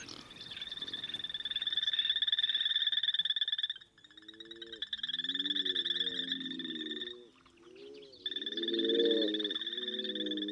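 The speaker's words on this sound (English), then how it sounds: "The usually quiet nights now resound with the calls of courting bullfrogs." Courting bullfrogs call at night in overlapping bursts of deep, throaty croaks, set against a steady high-pitched insect or frog chorus that drops out briefly and returns, moderately near and without talk.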